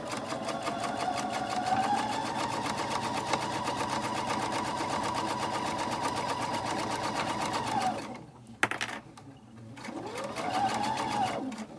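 A sewing machine with a bobbin runs a long seam in a continuous close hum that stops near the end, followed by a few clicks and a brief restart.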